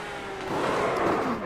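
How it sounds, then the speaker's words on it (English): An IndyCar engine sounds from on board in an iRacing race at Chicago: a steady, loud, rough roar with a falling pitch, running continuously close by with no one talking. "Just listen to the engine."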